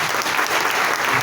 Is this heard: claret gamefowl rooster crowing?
no